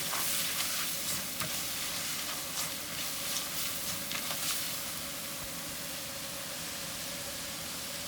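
Flour and butter fry in a pan for a spinach cream spread, giving a steady, soft sizzle with light stirring scrapes throughout, fairly quiet and without talk.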